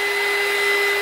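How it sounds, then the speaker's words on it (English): A heat gun blowing over a speckled egg tumbler to dry it, a loud steady whine and airy rush held without change, close by, with no voices. "don't be afraid to use your heat gun and move it around a little bit"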